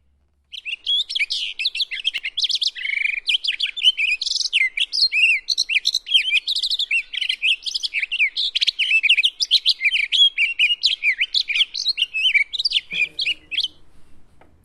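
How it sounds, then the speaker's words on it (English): Wild birdsong made of very fast, intricate short gestures: a rapid, unbroken run of high chirps, trills and tweets strung into one long melody, loud and close, with no talking, before a brief faint low sound at the end. "virtuoso bird song, right? Very fast and a series of very short, intricate gestures that are sort of strung together in a single melody."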